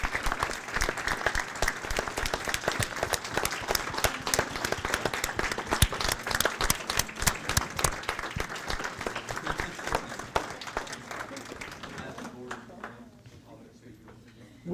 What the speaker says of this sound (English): One more time if we could give her an applause.